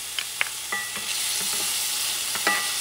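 A couple of cloves of minced garlic sizzle steadily in a hot pan for rice and beans, with a few sharp stirring clicks and scrapes over the constant frying hiss.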